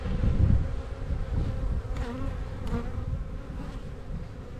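Honeybee colony humming and buzzing in an open hive, a dense close drone with individual bees flying past, steady throughout with no voices.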